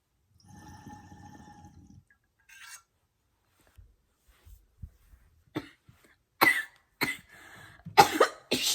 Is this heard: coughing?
yes